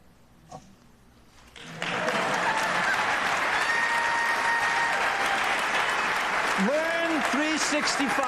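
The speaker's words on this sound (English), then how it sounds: "Roman, and everyone at Melrose School a big round of applause" After a quiet moment with brief speech, applause breaks out from the audience at a governor's State of the State address, a dense, sustained roar of clapping with voices rising through it near the end.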